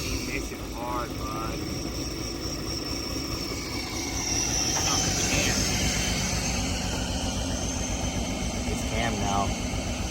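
A BMW E36 engine runs steadily after new spark plugs go in, giving off a continuous loud drone with a few brief higher whines and clicks over it.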